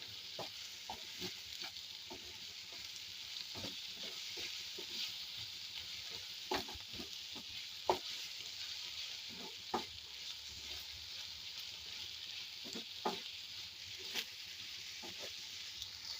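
Tomato and coconut sizzle steadily in a pan with intermittent scraping and stirring clicks, continuous and moderately loud throughout.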